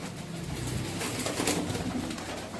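Copper-coloured pigeons coo softly at a pigeon loft in Maharashtra over a dense, noisy background of rustling and chatter, a continuous low bubbling of bird calls.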